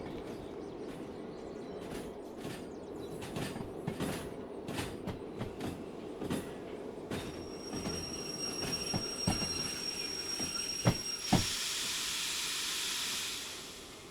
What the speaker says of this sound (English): we can just sit on the back of the train